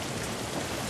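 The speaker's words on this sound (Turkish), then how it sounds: "Yaz yağmur, çabuk geçer." Rain falls in a steady, dense hiss for the whole second, with no voices and no breaks.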